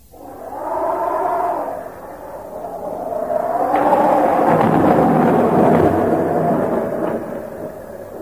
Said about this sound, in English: Mike and Jane are caught in a storm.